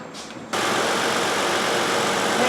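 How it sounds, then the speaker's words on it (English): A 2011 Toyota Sienna 3.5L engine running with both cooling fans and the AC on, a steady close whooshing drone that cuts in abruptly after a quieter half-second start and holds evenly. "Hey, both fans are running."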